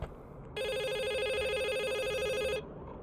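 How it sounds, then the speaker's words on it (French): A telephone in a horror video game set in an abandoned hotel rings loudly and steadily for about two seconds in a rapid electronic trill, then stops. Quiet room tone sits before and after the ring. "Sarah, c'est le téléphone, c'est normal."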